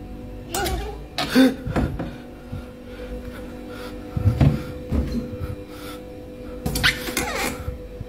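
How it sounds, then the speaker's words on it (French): A cupboard door in a reportedly haunted home moves with a few scattered knocks and creaky thumps, moderately close, separated by quiet pauses with low background hum. "La porte du placard bouge."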